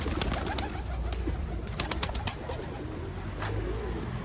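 Soft, low coos from a one-month-old young pigeon sound close by over a constant rumbling background, with faint scattered clicks and rustles.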